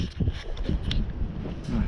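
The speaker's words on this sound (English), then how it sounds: "It's getting quite gusty now, windy, and all the dust is blowing all over." Gusty wind buffets the microphone in a steady low rumble with surging swells, broad noise filling the whole two seconds, on a dusty camel farm.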